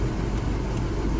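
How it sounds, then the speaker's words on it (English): The engine of a 1979 Chevy G20 custom van runs with a low, steady rumble for about a second. It sounds fairly quiet and even, with no talking. "I want to hear what the engine's doing."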